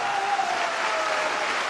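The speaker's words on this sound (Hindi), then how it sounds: "एक जोरदार ताली बजा दीजिए दोस्तों" An audience at a stage event in India gives sustained applause, a dense, even wash of clapping from many hands with no voices rising above it.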